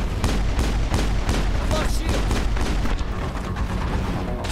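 Dense, continuous gunfire in the video game Mass Effect, rapid overlapping shots and impacts forming a loud, steady barrage for the whole stretch, with a voice occasionally mixed in.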